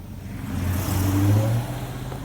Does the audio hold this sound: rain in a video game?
no